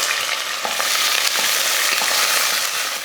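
Onion, curry leaves, cardamom, cloves, cinnamon, stone flower and bay leaf fry in sesame oil for chicken salna, giving a loud, dense, continuous sizzle with faint stirring scrapes, close and without speech.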